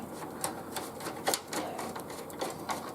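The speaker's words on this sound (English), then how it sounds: "I'm going to put the power supply back in, so I just screw the screws back in like this." Screws being driven back in to secure a Dell Precision T5500 desktop power supply, heard as soft, irregular clicks and ratcheting taps at close range, spaced out over a few seconds.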